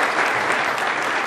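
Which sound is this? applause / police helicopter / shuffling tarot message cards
applause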